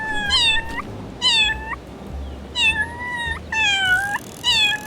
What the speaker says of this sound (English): You have a dedicated meow button to get people's attention.